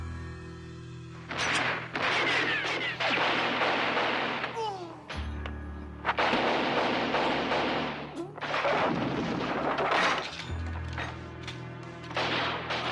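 Gunfire from John Woo's 1989 Hong Kong action film The Killer comes in loud repeated bursts of shots with booming impacts, under a low sustained musical drone and some background sound effects.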